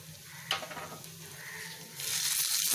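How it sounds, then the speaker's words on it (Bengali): Chopped onion fries in oil in a zinc or ordinary kadai, giving a soft, quiet sizzle with a light clink near the start, swelling into a louder, brighter crackle for the last second. "এবারে পেঁয়াজটাকে ভালোভাবে ভেজে নিব।"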